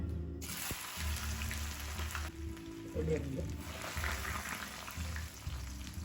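Ginger and garlic frying in oil left over from frying fish, for a fish pickle, a continuous close sizzle and crackle with occasional stirring clatter, steady throughout.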